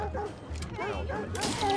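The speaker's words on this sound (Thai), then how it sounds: "หมาเห่า" Dog barking in the Watch Dogs 2 video game, a few short barks mixed with game sounds and talk, ending in a brighter burst of noise.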